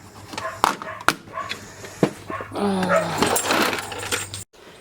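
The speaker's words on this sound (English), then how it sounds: "sorry about that, my menagerie of rescue cattle dogs" Several rescue cattle dogs bark and growl indoors, with sharp close barks at first, then a longer burst of mixed growling and whimpering before the sound cuts off abruptly.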